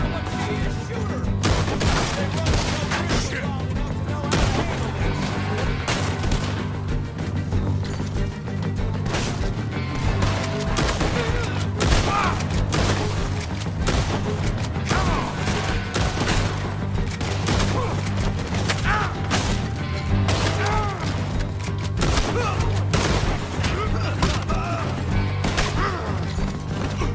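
Dense, continuous gunfire in Red Dead Redemption 2 during a farmhouse shootout, rapid overlapping shots, crashes and impacts for the whole stretch, with shouting voices mixed in.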